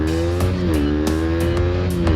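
A KTM Duke 125 motorcycle rides along a short winding road, its engine a loud close buzzing drone that rises and falls with quick throttle blips and gear changes, with no talking.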